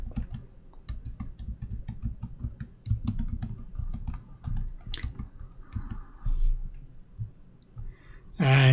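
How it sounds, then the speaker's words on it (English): Feedback being typed into an online form on a computer keyboard: a rapid run of close, crisp key clicks, with a few brief pauses and a louder thump at the end. "when you type in a feedback in the form"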